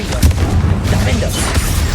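Blasting-spell explosion in the Hogwarts Legacy video game: a couple of short booming bursts over steady game background and combat noise, loud and close.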